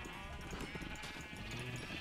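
Sheep bleating in the video game Minecraft, a faint, steady stretch of bleats with game ambience around them and no talk over them.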